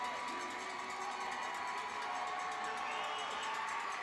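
A hockey arena crowd at a Halloween-night game cheers and roars in a dense, continuous wash with scattered whoops, distant and fairly faint, never breaking into silence.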